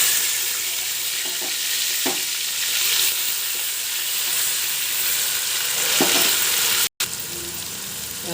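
Crushed onions and green chillies dropped into hot oil with mustard seeds, cumin and fenugreek, producing a loud steady sizzle and a few stirring scrapes, cut by a brief silence near the end.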